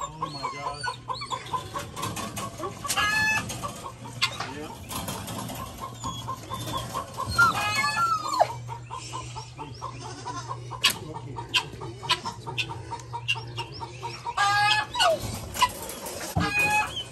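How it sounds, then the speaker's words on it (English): Agitated chicken clucking and squawking in a barn or coop among other farm fowl, a series of sharp, irregular outbursts at close to middle distance over a low steady hum, with occasional people talking. "There's a chicken in there, losing its mind right now."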